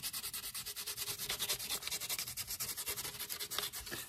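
Sandpaper rubbed hard along the edge of a handmade cigar box guitar, a fast steady back-and-forth scratching rhythm, close and alone with no voices.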